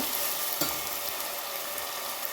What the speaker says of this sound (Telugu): ఇది కూడా బాగా వేయించుకోవాలి. అల్లం వెల్లుల్లి పేస్ట్ బాగా వేగిన తర్వాత